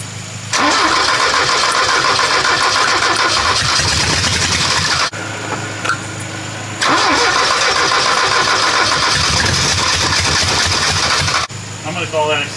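A Porsche 924 brought back after five years of storage cranks and catches twice, each start settling into a rough idle running without fuel, with a brief lull between and a voice talking near the end.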